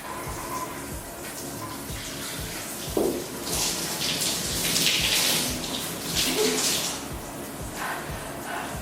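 Water from a running tap is splashed onto a face to test waterproof makeup, a steady close rush of flowing water with louder splashing bursts midway and no talking.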